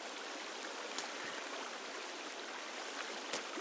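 Steady rushing water from a waterfall in the survival game Sons Of The Forest, a continuous broadband wash with a few faint splashy ticks, moderately distant and alone.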